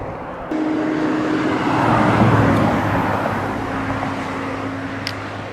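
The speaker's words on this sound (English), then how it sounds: "Why is there so much traffic?" Steady roadway traffic noise with passing cars and dump trucks beside moving water, a broad continuous rumble that swells slightly in the middle, with no talk.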